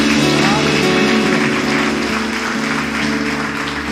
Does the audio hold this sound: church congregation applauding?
yes